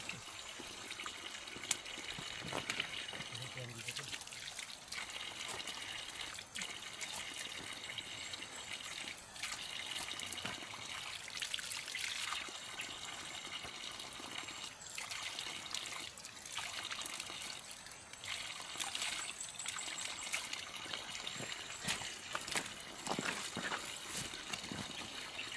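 Water trickles and splashes continuously at close range, a steady bright dribbling sound lasting throughout.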